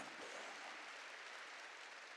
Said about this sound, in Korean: 네 믿음은 네가 지켜야 된다고 얘기한 걸 믿으면 두 손이야